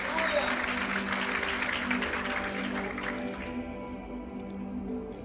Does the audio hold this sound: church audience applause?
yes